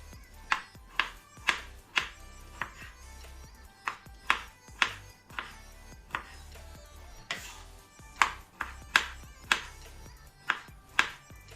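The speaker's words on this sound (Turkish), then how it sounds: "Şimdi 2 adet domatesimi doğrayacağım" Knife chopping two tomatoes on a cutting board for karnıyarık, a series of crisp, close taps in irregular bursts with short pauses between them, alone without speech.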